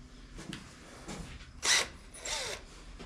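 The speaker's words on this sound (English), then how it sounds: "see if I can get this drill now to center on that and drill that stud out of there" A drill bores into a stuck stud or screw on a Case International 255 tractor smoke stack, with faint intermittent grinding and whirring and a few brief louder bursts at low overall level.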